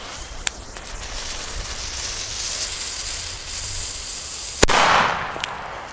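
A DumBum Black Edition PB120D firecracker goes off outdoors with a single sharp, loud bang, followed by a hissing burst and crackle, after a stretch of steady hissing fuse and rustling background.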